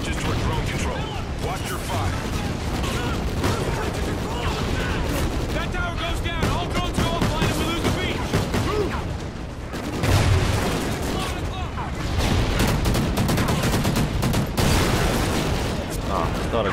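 Dense, continuous gunfire and explosive booms at a tower in the Call of Duty: Ghosts mission Homecoming, loud and sustained throughout with heavy low rumble and a brief dip before the barrage resumes.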